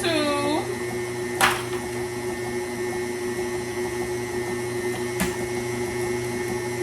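An electric mixer beats red velvet cheesecake brownie batter as eggs are added, giving a steady close motor whir throughout with a couple of brief knocking clinks.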